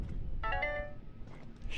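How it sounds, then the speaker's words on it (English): A phone ringtone plays a short bright melodic chime of a few tones, fairly clear over faint outdoor background by a lake, then fades. "Shut up, phone."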